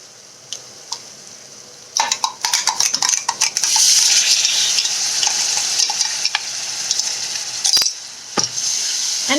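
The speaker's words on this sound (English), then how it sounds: "fry it properly till you get that aroma of ginger and garlic" Ginger garlic paste frying with browned onions in a pan for lobia curry: a loud, steady sizzle rising after a quiet start, broken by repeated scraping and clinking of a spoon stirring against the metal pan.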